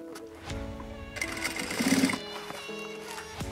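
A sewing machine stitches a baseball hat, its motor rising into a brief whirring run in the middle over a low background hum before settling again.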